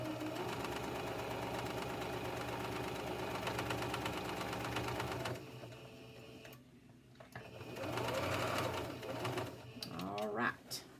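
A sewing machine stitches in the ditch while hemming blue jeans, a fast steady motor whir with rapid needle rhythm for about five seconds, then stops; afterward a voice speaks amid fabric handling noises.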